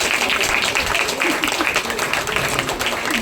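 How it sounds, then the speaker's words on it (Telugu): Crowd applause at a church Christmas-season celebration in Hyderabad, cheering a men's group after their drama performance; dense, steady clapping fills the whole stretch at close range, with a voice mixed in. "ఒక చక్కటి నాటకాన్ని ప్రదర్శించిన పురుషుల సమాజానికి చప్పట్లు కొడతాం"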